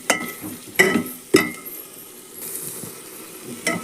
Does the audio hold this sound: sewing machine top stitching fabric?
no